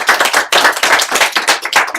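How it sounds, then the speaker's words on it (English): An audience claps in dense, continuous applause at a close distance for about two seconds, with rapid overlapping hand claps at a steady loudness. "let's give a round of applause for Tyler"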